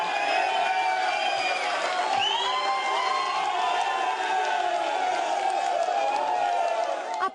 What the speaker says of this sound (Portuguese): os candidatos foram recebidos sob aplausos de apoiadores